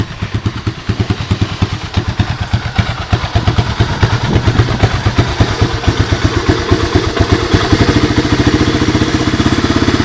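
A 1985 Honda ATC 250SX three-wheeler engine runs steadily close by, its rapid, even firing pulses thumping and clattering with a mid-pitched mechanical rattle throughout, no voices over it.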